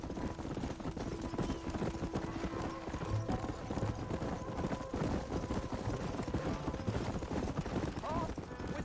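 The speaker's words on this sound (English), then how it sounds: "My horse can't keep up." Horse hooves clip-clop in a steady rhythmic trot, close and clear, while people talk over the sound throughout.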